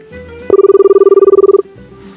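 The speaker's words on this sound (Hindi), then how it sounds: "चलिए उनको फोन लगाते हैं बिना देर किए हुए।" A telephone rings loudly on an outgoing call: a single sustained burst of rapidly pulsing electronic ringback tone lasting about a second, with quieter background sound before and after.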